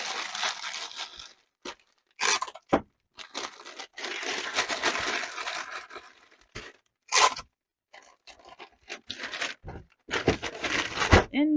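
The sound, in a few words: packing tape being pulled and torn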